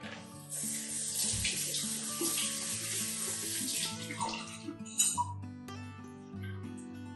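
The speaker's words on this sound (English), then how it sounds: "I'll just give them a quick rinse as well." Grains rinsed under a steady stream of harvested rainwater pouring from a tap, a continuous splashing rush lasting several seconds before easing, with background tones beneath.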